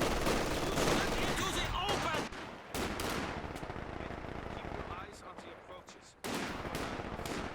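MG42 machine gun fire in the Company of Heroes 2 real-time strategy game: dense, continuous bursts of automatic gunfire with explosions, loud and close, broken by brief gaps.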